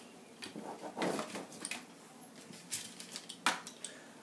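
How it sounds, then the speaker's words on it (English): A pizza cutter rolls through gluten-free breadstick dough, cutting it into strips: a few soft, quiet scrapes and light clicks of the wheel against the pan, spaced irregularly, with no voices. "I'm going to take a pizza cutter, and I'm going to cut the dough"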